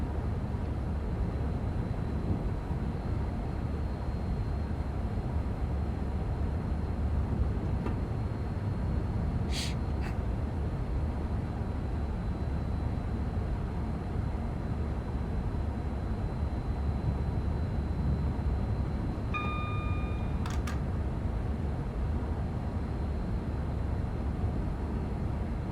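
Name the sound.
Pendolino train running, from video game Train Sim World 6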